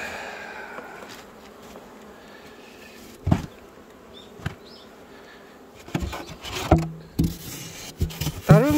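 Honeybees buzz steadily at a beehive during beekeeping work, a soft continuous hum with occasional knocks and rubbing of wooden hive parts, and a voice speaks near the end.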